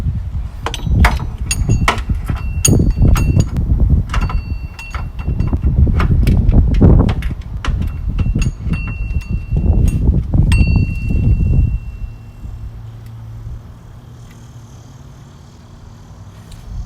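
Socket and short ratchet being fitted onto an alternator bolt in the engine bay of a 2009 Acura TSX, giving a dense run of close metallic clinks, knocks and clatter for about twelve seconds before settling into a quiet hum.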